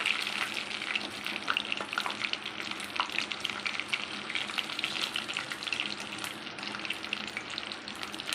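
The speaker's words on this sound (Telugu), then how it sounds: "ఇలా బాగా 2 సైడ్స్ బాగా ఫ్రై చేసుకోవాలండి" Chicken leg pieces frying in hot oil over a medium-low flame, a continuous dense crackle and sizzle, close and steady with no talking.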